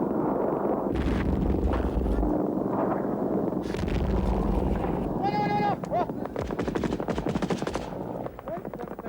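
Soviet troops dug in at a village edge laying down covering fire during the Soviet–Afghan War, with loud, dense automatic gunfire and rapid bursts over a heavy rumbling background, plus brief bleating-like tones.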